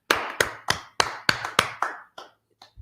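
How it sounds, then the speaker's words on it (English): Hand clapping in praise of the Lord during an ISUPK law class, about eight crisp, evenly spaced claps in a steady beat, fading to two faint final claps with no talking. "Let's clap it up for the Lord, class."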